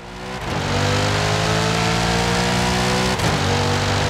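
A Chevrolet Corvette E-Ray in Forza Horizon 5 launches from a standing start, its engine swelling into a loud, sustained roar that holds steady with a brief dip near the end, and no talking.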